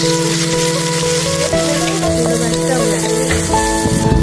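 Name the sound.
Karen curry paste frying in a pan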